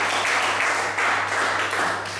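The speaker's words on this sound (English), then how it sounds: "Clap it up for Ross." A group applauding a participant at a professional development session on communication, a steady wash of clapping with a low constant hum beneath.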